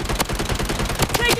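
Rapid gunfire in the video game Bloodstrike, a burst of sharp shots spaced unevenly across a short stretch, loud and close, with game voice callouts over it.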